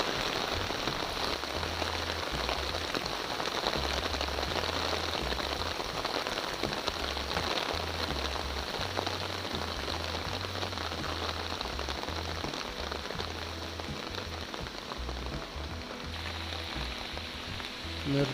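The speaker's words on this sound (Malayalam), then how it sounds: "നിർത്താത്ത മഴയാണ്." Heavy, unbroken rain pours down during a flood beside a small bridge with broken railings, a dense steady hiss of drops striking surfaces close by, with a faint low rumble underneath and no talking.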